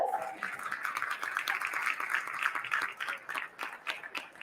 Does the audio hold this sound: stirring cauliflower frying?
no